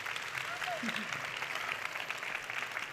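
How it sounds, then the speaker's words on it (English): Applause from a conference audience after a panel talk on corporate governance and employee activism, a steady soft wash of clapping heard from a distance, with faint bits of voice in the background. "Thank once you. again, round of applause."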